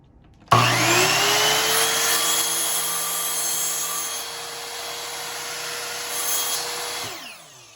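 A miter saw spins up with a sharp onset, its blade whining steadily as it cuts through material for several seconds, then the motor winds down and stops.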